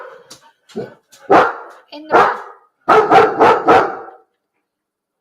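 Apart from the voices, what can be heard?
dog barking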